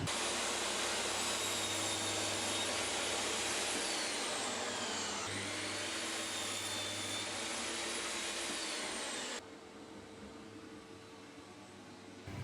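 A saw with a miter gauge squaring the ends of wooden boards for a garden wildlife box, a loud continuous whirring roar that runs for about nine seconds, then drops to a quieter spin-down hum.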